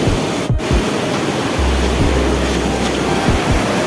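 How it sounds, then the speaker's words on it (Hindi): The Kolonga waterfall in West Karbi Anglong sends out a steady, loud, close rush of falling water, a dense unbroken roar that lasts throughout with no voices. "और ये कोलोंगा वाटरफॉल है, आप सभी देख पाएंगे।"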